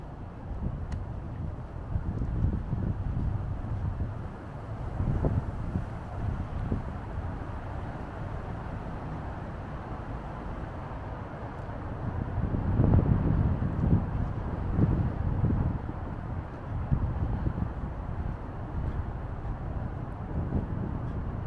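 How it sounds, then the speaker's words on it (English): Gusty wind buffets the microphone outdoors along Boston's Rose Kennedy Greenway near the harbor, a steady low roar that swells in stronger gusts around the middle, with no voices heard. "Sorry, it's a little gusty here."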